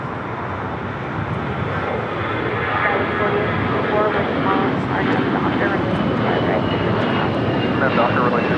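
An Air Canada Airbus A321 takes off from LAX, its engine roar building into a steady, loud broadband rumble that holds throughout, with voices talking over it.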